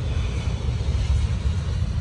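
A KLM passenger jet from Ecuador rumbles at Schiphol Airport in bad weather, a low, steady roar heard at a distance with no talking.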